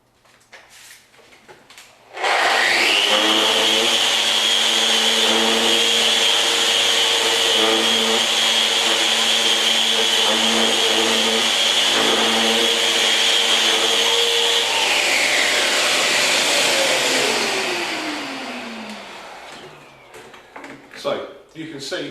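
A Festool Rotex RO 150 FEQ random orbital sander whirs loudly on wood at a steady pitch for about fifteen seconds, then winds down and stops, followed by a few light knocks.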